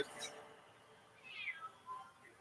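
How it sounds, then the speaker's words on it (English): Panda, a pet cat, meows outside a window: two short, faint meows at a distance, one clearer than the other, over a quiet room background. "Panda is meowing outside our window."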